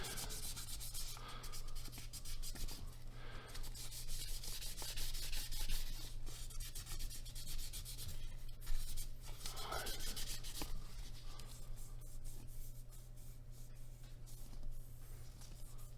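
Sandpaper with WD-40 rubbed over a part of a Civivi Sokoke folding knife, a continuous close scratchy rasp of steady back-and-forth strokes with no talking.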